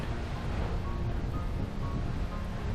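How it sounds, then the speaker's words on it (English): Steady, broadband roar of water pouring over the top of High Falls off Highway 11 in winter with ice and snow around, continuous and fairly loud with some wind buffeting. "I'm at the top of the falls. This is High Falls off Highway 11"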